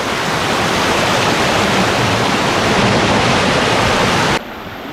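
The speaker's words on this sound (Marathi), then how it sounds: "कातलीवरून पाणी वाहत आहे" A stream pours over rocks in a dense, loud, continuous rush of water, steady throughout before it drops abruptly in level near the end, with no voices.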